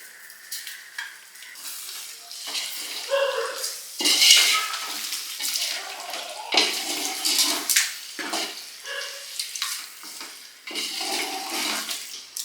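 Tomatoes with rock salt are stirred in a pot for chicken biryani, with repeated close scraping, sloshing strokes and a wet sizzle throughout.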